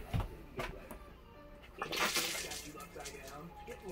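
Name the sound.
RV toilet flushing while winterizing with pink antifreeze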